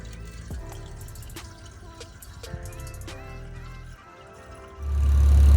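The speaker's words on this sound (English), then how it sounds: "We are just adding some water to test if you have any leaks before we put the actual antifreeze." Water pours and trickles into the new triple-core radiator of a Nissan Skyline R33 GTS-T during a leak test, with scattered drips over a low rumble that swells loud near the end.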